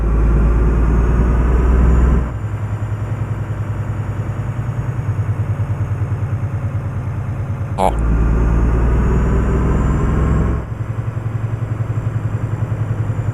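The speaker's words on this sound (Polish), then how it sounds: "jak dodam gazu i pokażę wam jak się odpuści gaz, tak jak fajnie ona tutaj turkocze" A heavy Italian truck with a V8 engine in Euro Truck Simulator 2, rumbling steadily as the throttle is pressed and released, loud and close throughout, its tone shifting in a few distinct steps.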